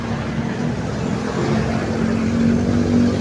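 Steady roar of vehicles moving along a highway, a continuous close rumble with a low engine drone that swells slightly toward the end.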